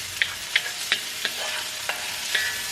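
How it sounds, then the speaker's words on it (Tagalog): Vegetables and onion leaves being sautéed in a pan: a steady light sizzle with sharp spatula scrapes and clacks against the pan roughly every half second, close and clear with no talking. "Kasi na-miss ko na po maggisa-gisa ng mga gulay."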